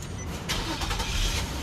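A Nissan Teana J32 push-button start: the engine cranks and catches about halfway through, followed by a steady, close idle with broadband noise and no talking.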